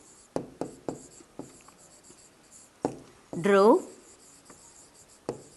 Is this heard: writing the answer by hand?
yes